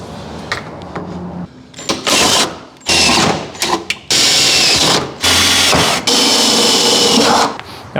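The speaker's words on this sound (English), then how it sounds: "now I'm going to drill all the holes anywhere I can get to them" A power drill bores holes through a car's lower body for fitting custom side skirts, running in loud repeated bursts of whining and grinding, separated by short pauses, close up.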